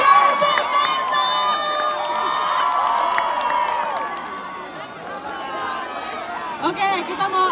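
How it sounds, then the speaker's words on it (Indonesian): Crowd at a band concert during Toraja Carnaval 2023 cheers, shouts and claps, loud and continuous throughout, with voices mixed in over the noise. "Tepuk tangannya untuk Tata"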